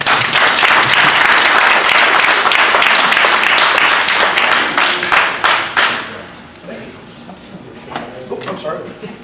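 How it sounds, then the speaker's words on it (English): Audience applause at an annual meeting, loud sustained clapping from a crowd that fades out after about six seconds into a quieter room with scattered sounds. "Clap for these people and thank them."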